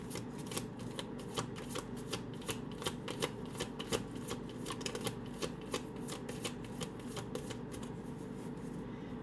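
Close, continuous shuffling of a tarot deck, the rapid flicking and riffling of cards sounding in a busy, even rhythm over a steady low background hum, with no voices.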